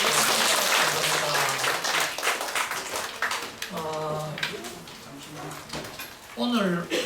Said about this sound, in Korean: 크게 박수 한번 더 주시기 바랍니다